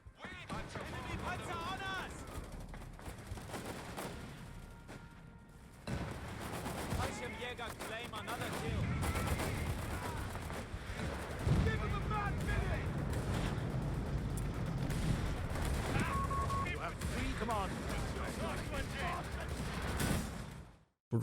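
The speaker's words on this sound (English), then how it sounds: "Explosions sound meaty and the gunshots sound mostly fine, but sometimes a lack of a bit of punch." Battle sounds from the World War II strategy game Company of Heroes 3: a dense, continuous barrage of explosions and gunfire with rumbling blasts and crackling shots, loud and layered throughout with occasional brief lulls.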